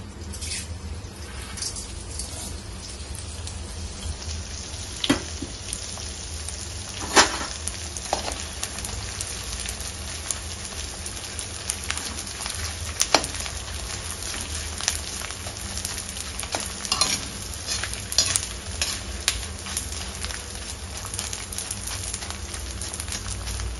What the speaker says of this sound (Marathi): थोडं थोडं डिंक टाकून आपण तळून घेऊया.